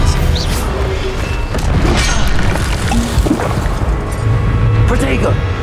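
Expelliarmus disarming spell cast during a combat fight in Hogwarts Legacy on Xbox Series X: a loud, dense wash of magical booms, crashes and impacts that continues without pause, with game voices mixed in.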